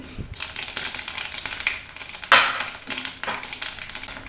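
Mustard and fenugreek seeds splutter in hot oil for tomato rasam, a rapid run of sharp pops and crackles, close and busy, with one louder burst midway.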